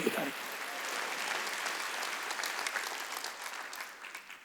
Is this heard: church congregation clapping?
yes